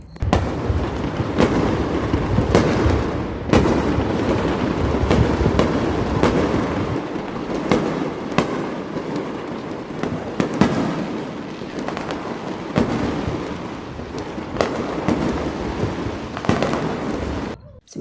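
New Year's Eve fireworks over Dubai crackle and bang in a dense, irregular barrage for about eighteen seconds, with sharp repeated reports heard from a moderate distance over a steady background rumble.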